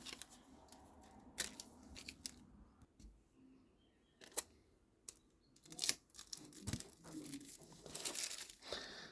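Adhesive tape is pulled and torn off the roll for a homemade paper kite, giving quiet crinkling paper and tape sounds with a few sharper rips scattered across a mostly soft background.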